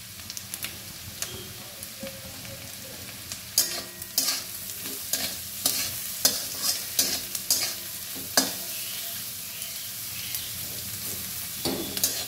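Thinly cut bottle gourd peel, seasoned with salt and turmeric, sizzles steadily in a pan while a spatula scrapes and stirs in repeated close strokes over the frying.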